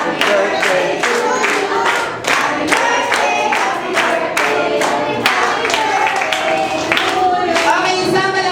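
Crowd clapping in rhythm along to a sung Happy Birthday, regular loud claps marking the beat under many voices singing together, steady throughout with a brief dip partway through.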